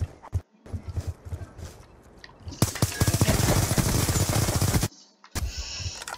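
Rapid automatic gunfire from an M27 rifle in a video game, a loud, dense burst lasting a couple of seconds, with shorter shots and game noise before and after.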